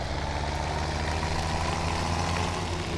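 A tractor idles in the farming game Farming Simulator 17, its engine giving a steady, low, even rumble at moderate volume throughout.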